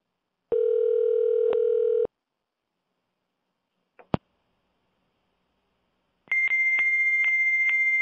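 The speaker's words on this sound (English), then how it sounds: "Oh. Fax line." A dialed telephone line connects to a fax line: a steady tone for about a second and a half, a brief click, then a higher repeating fax handshake tone pulsing steadily until the end, with no talking.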